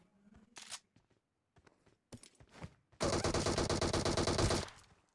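Rapid automatic gunfire in a shooter video game, a loud sustained burst of evenly spaced shots after a few scattered single reports and clicks.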